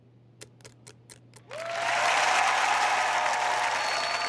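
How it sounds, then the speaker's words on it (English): Recorded applause played from a speaker under a sink swells abruptly into a steady, dense wash of clapping after a few isolated sharp clicks, fairly loud and with no voices. "Oh, the applause? I had that installed."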